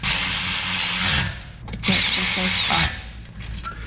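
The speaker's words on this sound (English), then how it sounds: "Gotta run these down with the ratchet." A power tool, likely a powered ratchet, runs bolts down on a BMW E92 M3 in two loud, close whirring bursts separated by a short pause, followed by fainter clicks and taps.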